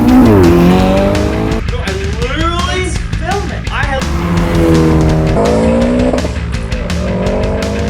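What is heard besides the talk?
rally car racing past with tire squeal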